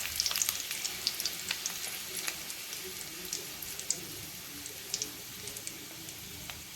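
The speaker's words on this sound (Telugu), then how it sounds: "పోపు దినుసులు వేగాక ఎండుమిర్చి" Dried red chillies sizzling in hot oil with tempering spices on a low flame, a steady crackling fry dotted with small pops, close and moderately quiet throughout.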